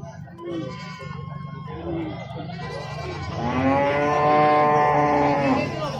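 Etawa (PE) goats at an Indonesian livestock market bleat loudly and repeatedly over a busy crowd murmur, with one long drawn-out cry near the end standing out close by.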